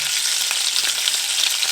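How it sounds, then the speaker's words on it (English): About 200 grams of butter melting in a pan with minced garlic, giving off a bright, even hiss of sizzling that holds steady for a moment before stopping abruptly, near and unaccompanied by voices. "So I've got 200 grams of butter going in here. I want to get that nice and melted."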